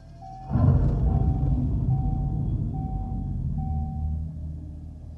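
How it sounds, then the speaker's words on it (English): A 2025 Dodge Charger Daytona Scat Pack, an electric car, powers on with a push-button start, bringing a steady low synthetic rumble with a repeating chime tone over it, close and constant before fading slightly. "Let's go ahead and fire it up with the push-button start located right here behind the shifter."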